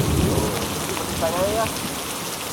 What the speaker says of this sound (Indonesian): Nah kita jalan lagi hujan gede.